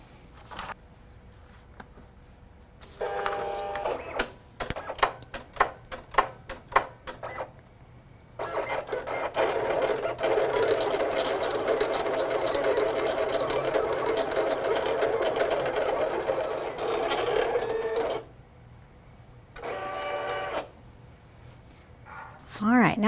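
An electronic craft cutting machine with an auto blade cuts paper on a mat, whirring and buzzing in stop-start bursts, with stretches of rapid ticking and one long steady run of motor noise.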